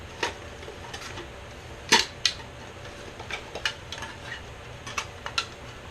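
Light metal pieces of a new camping mess kit click and clink in scattered, irregular taps, one sharper clatter standing out, handled close by with no talking.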